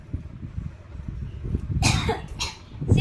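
A person at home coughs several times in quick harsh bursts near the microphone over low background murmur and household noise.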